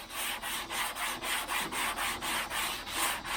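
Bondo body filler on the hood of a 1977 Malibu Classic being sanded by hand with 180-grit sandpaper: steady, rhythmic back-and-forth scratchy strokes, about four per second, close and even.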